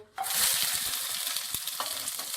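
Okra hitting smoking-hot mustard oil in a kadhai bursts into a loud, steady sizzle after a brief quiet start, with scattered spatters and a few stirring knocks.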